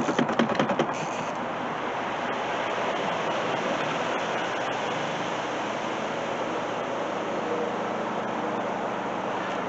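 A small washing machine runs with a continuous rushing, sloshing water noise, steady and even, after a brief rattling clatter at the start.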